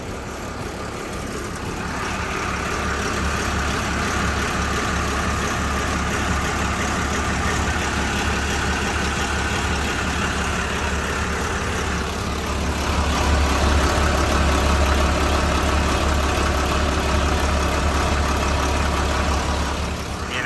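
Steady low diesel engine idling close by from a Hitachi LX100 wheel loader with an Isuzu engine, a continuous heavy rumble that holds even throughout, growing slightly louder partway through.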